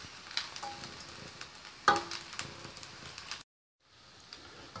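Vegetable hakka noodles stirred in butter in a hot pan, a steady close sizzle with scraping and a sharp clatter midway, then a brief silence before the frying resumes more quietly.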